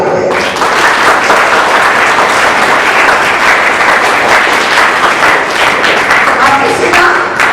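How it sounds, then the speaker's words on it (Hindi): Audience in a talk show hall applauds loudly on request, a long, full burst of close, dense clapping with some thumps, sustained at high volume before tapering off near the end. "आप इस टॉक शो में बैठे जोर से ताली बजाएं"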